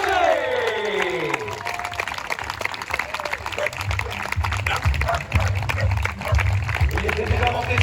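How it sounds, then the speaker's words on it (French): An outdoor crowd claps and cheers for the winner at the finish of a mountain endurance race, a dense, steady wash of applause with a voice talking over it. "un tonnerre d'applaudissements pour le grand vainqueur 2020, Cédric Chalet"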